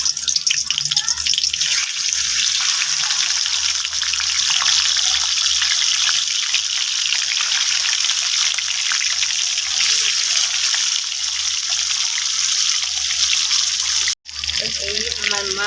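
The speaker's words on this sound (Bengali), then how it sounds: "মাছটা আমি তেলের মধ্যে ছেড়ে দিলাম।" Fish fried in hot oil for a Bengali potato and fish curry gives a loud, steady sizzle that runs unbroken for the whole stretch, with one brief dropout near the end.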